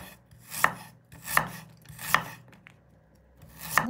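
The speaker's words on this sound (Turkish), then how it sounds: "Şimdi zencefillerimizi alıp doğruyoruz" Fresh ginger chopped with a knife on a cutting board for a grandmother's home remedy, four crisp, evenly spaced chops about three-quarters of a second apart, close and fairly loud with quiet gaps between.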